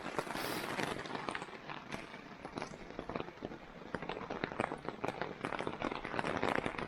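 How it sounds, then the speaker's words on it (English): Rain starting to fall on a muddy campsite during overnight camping, a dense steady patter of drops with scattered sharper taps on nearby surfaces. "the rain is starting to come down"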